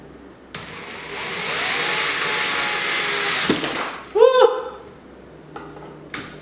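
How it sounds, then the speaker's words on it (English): A power drill whirs steadily for a few seconds, then winds down, followed by scraping and clattering noises nearby. "Okay, we're drilling"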